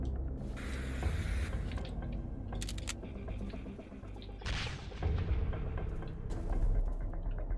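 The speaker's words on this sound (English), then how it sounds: "Now somebody is shooting at me, I don't know who." Gunfire and booming blasts in the survival video game Sunkenland, dense continuous shooting with sharp bursts and a loud explosive whoosh midway, close and alone.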